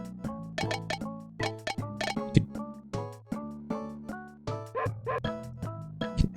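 A small dog barks and yips in the SNES video game Nosferatu, a rapid series of sharp, chirpy electronic barks in irregular bursts, loud and close, with game music tones underneath and no talking.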